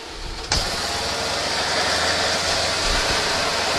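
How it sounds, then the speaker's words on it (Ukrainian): A two-cylinder M-72 motorcycle engine kicks in after a sharp start and settles into a steady, even idle on late ignition timing, close by with no talking. "зараз запускаємо на обох циліндрах і можемо відрегулювати е, холостий ход"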